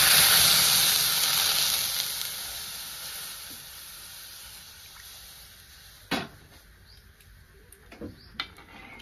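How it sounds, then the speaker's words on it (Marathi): Milk poured into a hot pan of almonds browning for rice kheer, a loud burst of sizzling and steam that gradually fades to a quiet simmer, followed by a few light clinks of utensils. "आता ह्यातच मी दूध ओतून घेणार आहे।"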